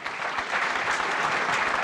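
A live audience applauds a guest at an on-stage conversation event with a team that just went undefeated. The clapping is dense and steady, a full crowd sustaining it evenly for about two seconds with no voices.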